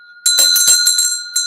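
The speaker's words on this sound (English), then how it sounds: "So in her honor, I will ring the bell" A hand bell rings in a quick burst of bright, sustained metallic strikes, then a short pause and one more ring, loud and close with no talk over it.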